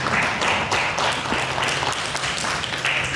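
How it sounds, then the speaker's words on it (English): Applause from an audience at a social services event, a crowd clapping in uneven bursts with distinct individual claps, fairly close and steady for a few seconds without talking. "you would give yourselves a round of applause"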